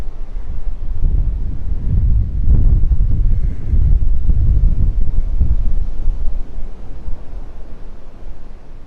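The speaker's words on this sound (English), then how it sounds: "that wind blowing out of the south" Steady wind buffeting the microphone on a beach in North Naples, Florida, a continuous low rumbling roar with gusty swells throughout and no voices.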